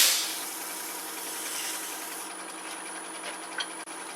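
A wooden piece being sanded to take off an old finish before a food-safe finish goes on, giving a steady, close broadband whir and rasp that runs the whole time without speech.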